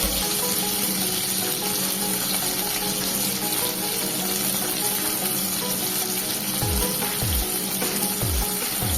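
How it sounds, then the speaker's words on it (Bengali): Chopped medium tomato frying in a pan for a vegetarian okra dish, a continuous loud sizzle with occasional scraping strokes of stirring near the end, no voices. "টমেটোগুলো দিয়ে বেশ ভালো করে নেড়ে চেড়ে নিচ্ছি টমেটো নরম হয়ে আসা পর্যন্ত"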